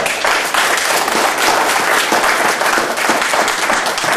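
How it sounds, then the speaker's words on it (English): Sustained applause from a church congregation, dense steady clapping filling the room for several seconds with no speech on top. "Let's give Bob a round of our applause"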